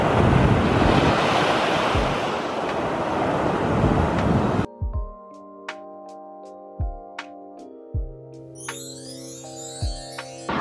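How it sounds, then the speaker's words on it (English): Ocean waves break on a winter beach in Busan. A loud, steady rush of surf and wind noise lasts about four and a half seconds, then cuts abruptly to quieter sounds with music. "This is a real beach, like water."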